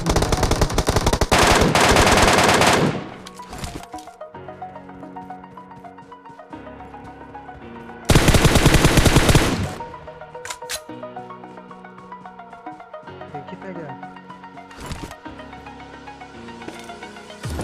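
Automatic gunfire in the mobile battle royale game PUBG Mobile, two loud sustained bursts of rapid shots separated by quieter stretches of game sound and scattered single reports, with no talking.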